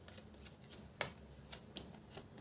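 Tarot cards being shuffled, soft and close, with a handful of quick riffling flicks and light slaps spaced through a quiet moment; no talking.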